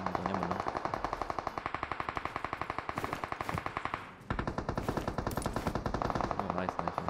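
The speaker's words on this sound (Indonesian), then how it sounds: "Udah mulai ada suara tembakannya." Rapid automatic gunfire from a PUBG Mobile battle rattles in dense, continuous bursts with a brief gap near the middle, loud and close, with no talk over it.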